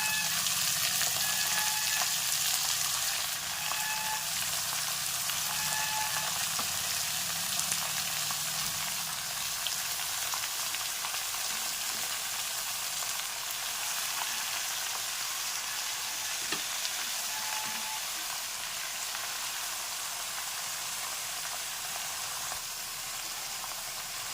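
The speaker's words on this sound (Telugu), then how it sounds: "సన్నగా తురుముకున్న ఆకుకూర ఇందులో ఇలా వేసేస్తున్నాం" Finely chopped leafy greens fry in a pan with a dense, even hiss and sizzle that holds steady throughout, with faint occasional stirring scrapes beneath.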